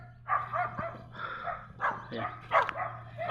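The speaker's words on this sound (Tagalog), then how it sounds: "Napakaraming aso dito guys kasi naglalaba yung kapitbahay namin." Several dogs on a farm bark and yip in short bursts, moderately near, with a low steady hum underneath and a brief spoken word.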